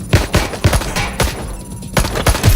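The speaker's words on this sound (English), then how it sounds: "Shots fired! Shots fired!" Rapid bursts of gunfire in the video game Watch Dogs Legion, several quick shots in clusters with a short pause midway, loud and close, with no voices over the shots.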